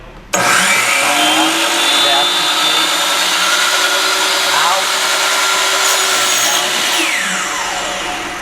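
A chop saw starts up and runs loudly and continuously while cutting a piece of wood in a high school shop, its steady whine holding for several seconds as someone talks over it.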